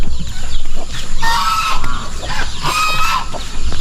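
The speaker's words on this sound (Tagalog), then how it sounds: "may inahintay manok na may dalang mga sisiw" A mother hen with her chicks clucks among other backyard chickens, giving repeated nearby clucks and soft chattering calls over a constant low background hum.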